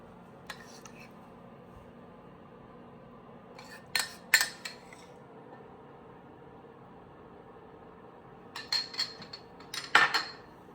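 A spoon adds chia seed pudding to a bowl in a quiet kitchen, with a few soft clinks and scrapes in two short clusters.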